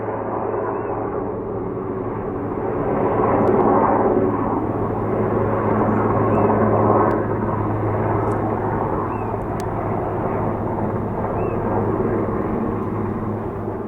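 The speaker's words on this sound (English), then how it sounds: "the helicopter should be coming up just over those trees in just a minute or two" A steady engine drone with a low rotor thrum hangs overhead, swelling slightly then easing, continuous and fairly distant.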